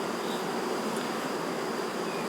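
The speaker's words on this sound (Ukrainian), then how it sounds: "Хоч зараз день, бджоли досить активно літають" A dense, steady buzzing of many bees flying close by, a continuous swarm hum with no voices.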